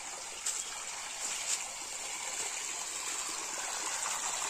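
Irrigation water flows steadily across a farm field, a continuous soft rushing hiss from a sprinkler line, fairly faint and even, with a couple of brief knocks and no talk.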